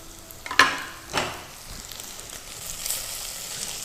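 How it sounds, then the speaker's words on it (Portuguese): Garlic frying slowly in lard in a heavy iron skillet gives a soft, steady sizzle, with a couple of brief clinks near the start and no voices. "Eu vou colocar o alho para ir fritando devagarzinho aqui nessa banha."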